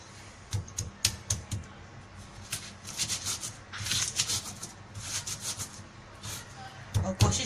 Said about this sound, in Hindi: इसलिए मैं हमेशा इसे सिल पे ही पीसती हूँ